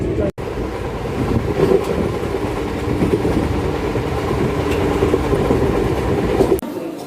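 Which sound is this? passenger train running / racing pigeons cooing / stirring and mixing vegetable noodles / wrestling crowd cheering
passenger train running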